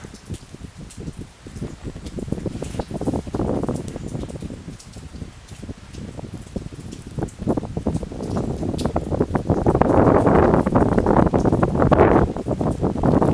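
Strong, cold wind blowing outdoors, a steady broadband rush that swells louder in gusts toward the end, heard close with no talking.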